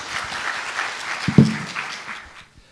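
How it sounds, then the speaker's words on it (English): An audience claps for a speaker at the close of a morning conference session, a steady wash of applause that swells briefly and then fades away over a couple of seconds. "So another round of applause to Dr."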